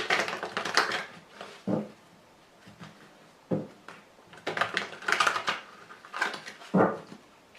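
A Wicca tarot deck is cut and shuffled by hand, bursts of crisp riffling card clatter alternating with single sharp taps as the deck is squared, close and without speech.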